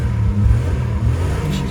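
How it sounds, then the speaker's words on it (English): A 1989 Jeep Wrangler YJ with an automatic transmission and a six-cylinder engine idles roughly nearby, its low rumble wavering unevenly for a brief moment. "But she's idling. She ain't idling great though."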